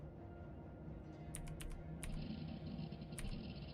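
A computer in a space station video game makes a few faint, quick clicks over a low, steady hum.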